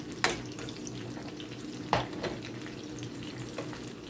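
Spanish sweet onions sizzle steadily in a hot pan for old-fashioned cheeseburgers, a constant close hiss broken by two or three sharp clanks of a utensil stirring.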